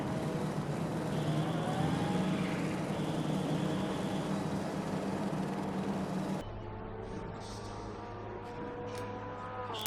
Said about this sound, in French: l'Aston Martin Red Sky 418 et la Porsche Black Swan 540 plongent dans les stands en même temps.